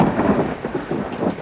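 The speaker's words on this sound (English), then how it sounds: "it started to rain again" Steady rain pattering outside a tent with low thunder rolling beneath it, a dense, continuous wash of noise with soft pulsing swells and no voices.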